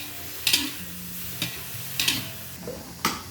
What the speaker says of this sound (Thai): เราจะมาคั่วเป็นสดๆแบบนี้ กับกระทะฮ้อนเนี่ย